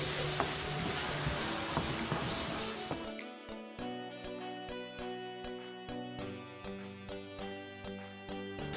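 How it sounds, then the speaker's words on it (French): Tomato sauce simmering in a pan as it is stirred: a steady close sizzle and bubbling, with a louder spatter at the start and scraping stirs, no talk. "Pendant que ça mijote"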